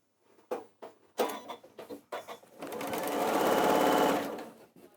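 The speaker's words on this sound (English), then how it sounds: "I'm going to just sew a 1/4 inch seam." Sewing machine stitching a quarter-inch seam, with several short stop-start bursts of stitching that build into a steady, close whirring run before stopping.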